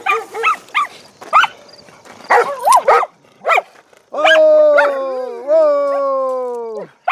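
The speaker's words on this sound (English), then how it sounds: "Dogs and more dogs!" Several dogs barking at a livery stable open house, a run of sharp close barks followed by long, loud rising and falling howls.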